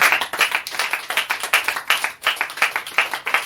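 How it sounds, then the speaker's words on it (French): A church congregation applauds loudly, a dense, fast, rhythmic clapping from many hands that pulses steadily and fills the room, with no speech. "On acclame très fort."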